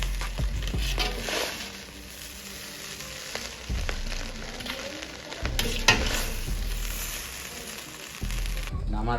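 Green beans, capsicum and carrot are stir-fried in a pan, with steady sizzling and repeated scraping, clattering stirring strokes close by throughout.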